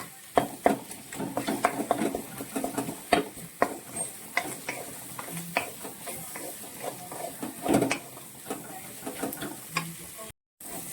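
Masala sautéing in a pan for a prawn dish, with a soft steady sizzle broken by frequent sharp spatula scrapes and taps against the pan, close and moderately loud throughout.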